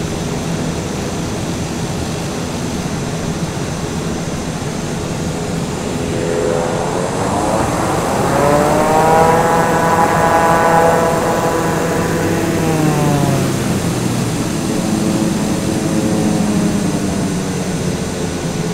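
A simulated aircraft landing in Flight Simulator 2020, engine noise rising to a loud whine that sweeps up and then falls away as the plane comes in, with a steady background roar and no talk.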